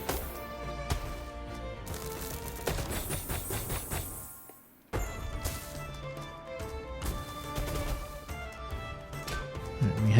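Rockets fire and explode in a turn-based video game, a dense run of loud blasts and bursts with a brief silent gap near the middle before more impacts and a lively game score resume.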